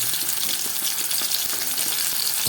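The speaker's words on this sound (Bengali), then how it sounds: "চিংড়ি মাছটা ভালো করে ভেজে নেবো" Shrimp frying in a pan make a continuous, close, fairly loud crackling sizzle with a bright hiss and small pops throughout, and no voices.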